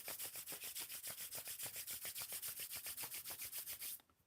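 Palms rubbing briskly against each other in a steady, rapid back-and-forth rhythm, a dry close-up swishing that runs for about four seconds and then stops abruptly.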